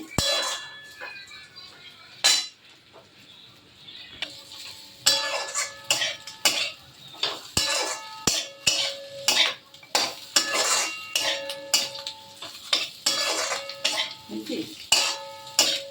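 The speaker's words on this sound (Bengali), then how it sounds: "তো একটু ভালো করে নাড়তে হবে উপর দিয়ে" Bitter gourd chachchari with potato being stirred in a pan, cooked in fish oil: repeated metallic scrapes and clinks of a spatula against the pan in an uneven rhythm, close and fairly loud, with no talking.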